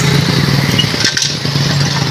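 Motorcycle engine running steadily with a rough, throbbing idle, close and loud throughout, apparently a motorbike with a faulty engine, no talk.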